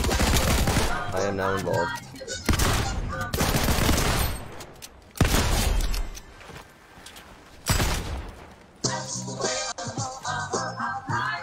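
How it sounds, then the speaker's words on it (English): Apex Legends gunfire rattles in heavy automatic bursts separated by short pauses, loud and close, with someone briefly speaking between the volleys. "Are they shooting you right now?"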